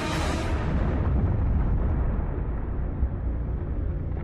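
A deep, rumbling explosion from asteroid 2008 TC3 bursting high in the atmosphere, heard as a sustained loud roar that begins with a bright crackling burst and decays into a low, continuous rumble with no voices.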